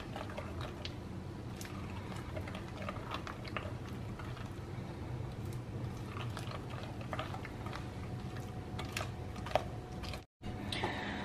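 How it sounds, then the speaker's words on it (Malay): Spoon scraping and stirring chocolate brownie batter in a bowl while the sugar dissolves, a steady gritty rasp with small clicks throughout, close up and continuous, with a brief gap near the end. "kita kacau sampai agak-agak gula kita dah larut"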